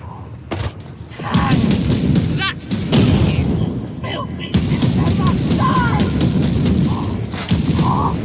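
Weapon fire in the Warhammer 40,000: Battle Sister VR game on Quest 2: repeated sharp bursts and thuds that stay loud across the clip, with a busy game soundscape behind them.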